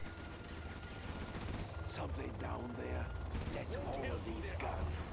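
Gunfire in the tactical shooter Zero Hour, rapid bursts of shots and mechanical clatter at moderate level against a steady low rumble.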